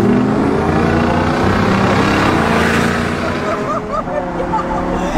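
A Bugatti and a Lamborghini accelerating from 0 to 60 in a race, loud engine drone with rising pitch as the cars speed up, with nearby voices murmuring underneath.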